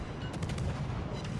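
Rapid naval gunfire from a Tier 7 Friesland warship in World of Warships Legends: a dense, continuous rumble of booming shots with quick cracking bursts, loud and unbroken throughout.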